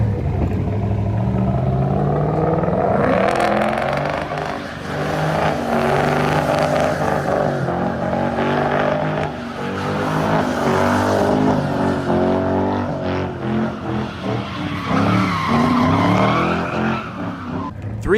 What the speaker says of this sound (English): 3-valve Mustang wanted in the donut competition as well, making a solid entry right here, whipping it in super hard